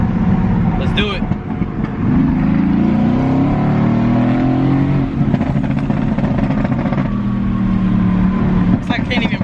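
A Mercedes-AMG GT S with over 700 horsepower roars past under hard acceleration, its engine note rising and falling loudly through the flyby, while excited voices talk over the noise.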